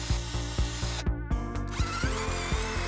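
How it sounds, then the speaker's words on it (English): A power drill whirs through a wooden strip, drilling holes with a rhythmic, pulsing grind, close and loud, briefly pausing mid-way before biting in again. "Then, I grab a wooden strip and drill some holes in it."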